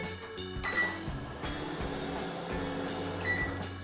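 Keypad beeps sound twice, a few seconds apart, over a steady mechanical hum and some clicks, like a microwave being set and started.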